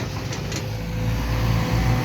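A Thai farm tractor engine idling and revving in a field: a steady low mechanical drone with a faint rise in intensity toward the end.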